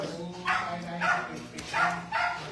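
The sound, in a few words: dog barking at a farm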